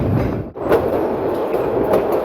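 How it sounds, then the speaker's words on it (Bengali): A Narayanganj commuter train on the Dhaka–Narayanganj line rushes fast along the rails, a loud continuous rumble with rhythmic rattling and a brief dip before the roar resumes. "নারায়ণগঞ্জ কমিটি ট্রেনটি দ্রুতগতিতে সামনের দিকে এগিয়ে চলছে"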